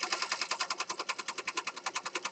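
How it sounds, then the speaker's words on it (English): A sewing machine runs a zigzag stitch around a junk journal page, its needle hammering in a fast, even rhythm of about ten strokes a second, close and steady throughout with no talk. "let's go over to the sewing machine"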